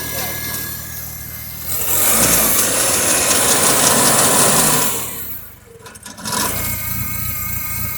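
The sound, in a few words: IH Farmall Cub tractor engine idling on choke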